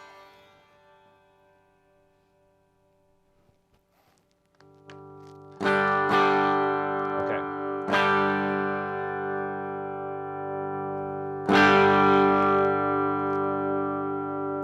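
Electric guitar chords played through an amp, with the reverb off and only a slight crunch, ring out loud and sustained, struck three times after a quiet stretch of faint noise.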